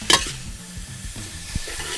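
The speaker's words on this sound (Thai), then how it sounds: "นี่ดูเทคนิคการผัด ใช้สันตะหลิวนี่ทำอย่างนี้เขี่ยเขี่ยเขี่ยอย่างนี้นะ" Close scraping and stirring of noodles in a hot wok with a spatula, a soft sizzle, a sharp metallic tap at the start and another knock later.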